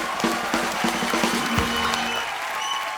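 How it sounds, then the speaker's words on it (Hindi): Studio audience at the Kapil comedy talk show breaking into loud, thick applause with some cheering, over sustained background music tones, the clapping easing off after about two seconds. "जोरदार तालियां एक बार हो जाएं"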